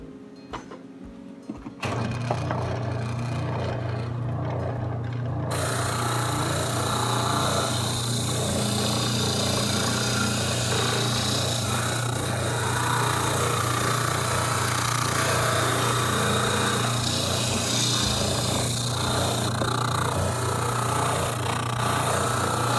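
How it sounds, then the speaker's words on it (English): Spindle sander grinding the tabs off a wooden planter, a loud steady motor whine with a broad abrasive roar that starts abruptly and runs continuously, close and alone. "I'll just run this through the spindle sander, and we'll get rid of these tabs that are in the middle."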